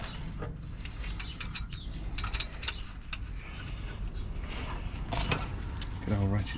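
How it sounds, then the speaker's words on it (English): A ratchet spanner clicks in quick bursts while working on the subframe of a 2010 Toyota iQ 1.0 during a clutch replacement outdoors in the rain, a close mechanical clicking with someone speaking over it. "Good old ratchet spanner right there."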